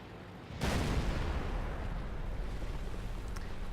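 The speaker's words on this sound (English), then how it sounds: "I decide to shoot at his turret, but you know, that will never penetrate." A tank gun fires in World of Tanks, a single sudden loud blast followed by a long rumbling roar that slowly fades, with no talking.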